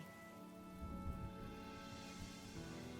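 Steady rain patters on surfaces in Honkai: Star Rail, a soft, even wash of drops that swells slightly midway, faint and continuous with no voices.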